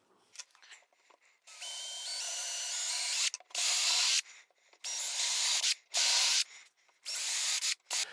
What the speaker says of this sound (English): the first thing I'm going to do is drill a pilot hole in each one of these